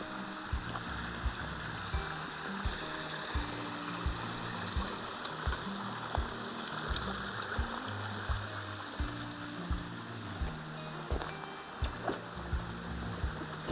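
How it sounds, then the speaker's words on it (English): Water burbles and trickles through a small woodland creek in a continuous, soft wash, heard close with irregular low splashes and knocks scattered throughout. "This looks more like a tiny creek."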